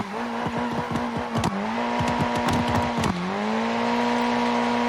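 A drift car slides around a parking lot, its engine holding a loud, steady revving drone while short tire squeals and chirps burst through repeatedly, close and continuous.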